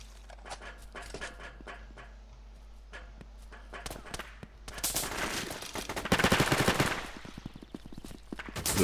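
Gunfire in the shooter game Brain-Out comes as scattered single shots, then louder dense automatic bursts and a sustained volley in the second half, with a voice talking over parts of it.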